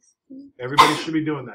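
A single sharp sneeze bursts out in a classroom during a maths lesson on calculating a prism's surface area, loud and close, with a teacher's voice speaking before and after it.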